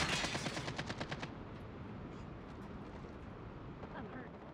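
Rapid automatic gunfire in a multiplayer video game rattles in close, fast bursts, then fades into a dense rumbling wash of game noise.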